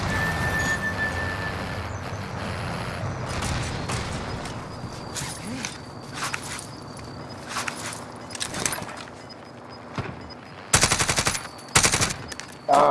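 Video game gunfire from an enemy carrying a riot shield: scattered shots and footsteps early on, then loud clustered bursts of rapid fire toward the end, close and punchy.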